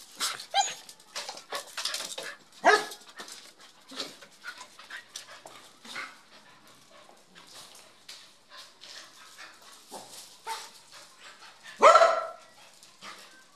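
A pet dog barks in sharp, scattered bursts and pants between them at feeding time, with a louder yelp near the end; no one speaks.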